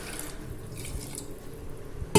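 Water splashes and trickles into a pot of tamarind kuzhambu, a soft, close pour lasting about two seconds.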